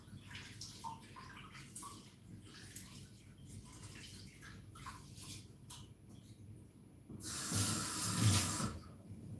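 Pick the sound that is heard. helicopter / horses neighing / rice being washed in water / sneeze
rice being washed in water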